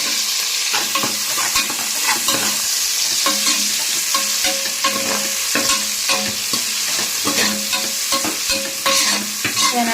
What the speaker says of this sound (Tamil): இப்போ பச்சை மிளகா, வெங்காயம் போட்டு நம்ம நல்லா வதக்கிக்கலாம்.